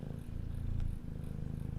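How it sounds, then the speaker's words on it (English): A cat purrs right against the microphone, a close, steady rumbling throb that cycles with each breath, loud and alone without any talking. "she's purring right next to the microphone"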